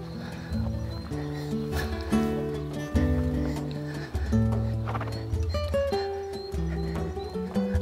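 A horse performing a dressage pirouette gives off hoofbeats, clip-clop steps at an irregular pace across several seconds, layered over steady background tones with faint voice.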